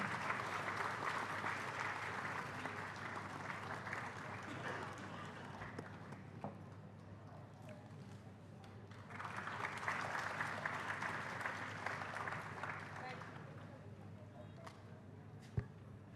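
Audience of students at a university freshers induction programme applauding steadily for about sixteen seconds, a dense wash of claps that dips midway and swells again, with faint voices underneath.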